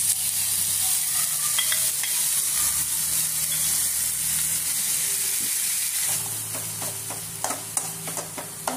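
Spice paste hits hot oil with curry leaves in a pan and sizzles loudly and steadily while being stirred, with scraping stirs growing more distinct toward the end.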